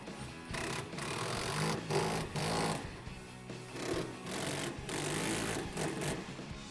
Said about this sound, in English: I'm gonna grab my impact gun and our socket and tighten these both down